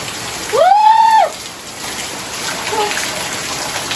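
Rain falls steadily in an even hiss while children play outdoors; one high, drawn-out child's call rises briefly near the start.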